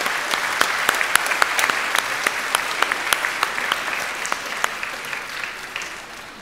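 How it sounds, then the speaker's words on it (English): Steady applause fills a church at a Christmas Eve Mass after a performance, a moderate crowd with some sharp individual claps standing out in a continuous wash. "let's give a round of applause to our performance"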